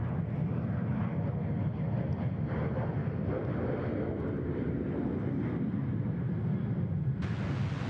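A jet airliner taking off at Sydney Airport, a steady broad engine roar heard from a distance, constant throughout with a faint wind-like hiss and no talking.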